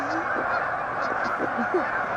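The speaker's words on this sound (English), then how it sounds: "We've got a gazillion geese out there." Geese honk repeatedly from a distance, several calls overlapping over a steady outdoor hiss.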